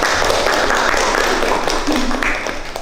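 An audience of vocational school students gives steady, diffuse applause in a hall, a dense wash of clapping that fades slightly toward the end, with voices mixed in.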